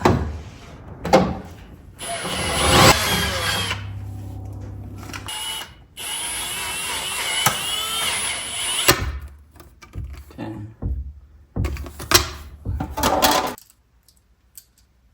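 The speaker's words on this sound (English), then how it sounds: "Let's drill it." A power drill whirs in several bursts while drilling a hole for a Schrader valve on a Jeep Gladiator air spring install, one long sustained run in the middle, with clattering and handling noises between and a quiet tail at the end.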